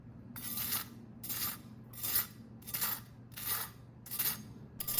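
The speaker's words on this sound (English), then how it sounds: "let's do a scrape test on the skin" A utensil scrapes repeatedly across crispy roast turkey skin while the bird rests, six or seven evenly spaced dry, crackling rasps, close and fairly quiet with no talking.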